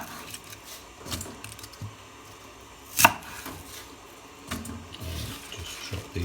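A knife chops bok choy on a board for a stir fry, a few scattered cuts with one sharper knock standing out, against quiet kitchen background.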